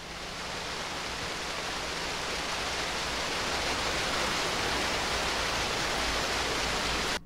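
Waterfall and flowing water recorded for forest-game sound design, a dense, steady broadband roar that stays loud and constant throughout with no voices.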